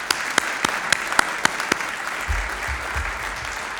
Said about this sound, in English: Let's give these people a great round of applause